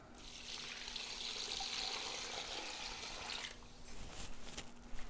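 Steady rush of about ten cups of water pouring into a cooking pot for several seconds, then breaking into uneven splashes and trickles near the end.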